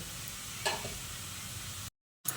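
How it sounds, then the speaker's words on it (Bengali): Spice masala sautéing in a pan for Bengali egg curry (dimer kosha), giving a steady close sizzle with a brief stirring scrape, then a short break before the sizzle resumes. "ওদিকে মশলাটা কষানো হোক"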